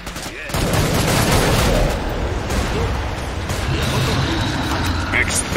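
Dense automatic weapon fire in the Killing Floor 2 video game on the KF1 West London map, rapid bursts of shots rattling almost without pause under occasional game voice lines.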